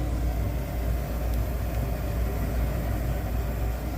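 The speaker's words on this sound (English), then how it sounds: "That's a heater back there." A loud heater runs in a garage during a front hub replacement on a 2012 Jeep Liberty, giving a steady, unbroken low droning hum with no talk over it.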